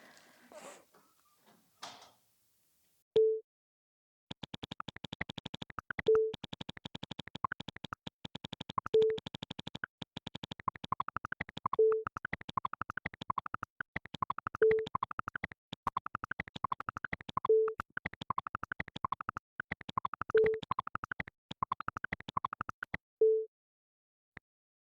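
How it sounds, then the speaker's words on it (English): Slow electronic sine-wave pulse, a soft boop every few seconds, with a dense layer of clicks that speed up and then settle back to the same tempo, falling out of phase with the pulse; clean and alone, with no talk. "Listen for the sine wave, just boop, boop, really slow pulse. And then you'll hear all the clicks speeding up."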